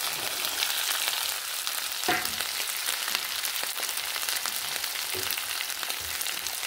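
Tomato and green chillies sauté in a pan for a spicy bhola fish curry, giving a constant close sizzle and hiss with occasional clinks of stirring.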